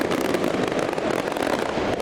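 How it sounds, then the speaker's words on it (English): Daytime fireworks at an outdoor car show set off a dense, continuous crackling and popping, loud and close, with no gaps across the short stretch. "Daytime fireworks, always a treat."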